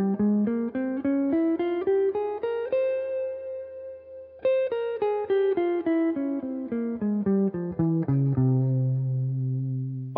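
An electric guitar with effects runs up and down a Phrygian Dominant scale in quick, even picked notes, a held chord ringing in the middle, bright and clean with light reverb, no voices.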